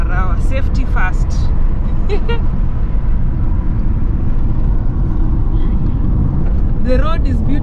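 Car engine and road noise from a vehicle climbing a very steep road slowly at about 30 km/h in hilly northern Kenya. The steady drone continues throughout, with speech over parts of it.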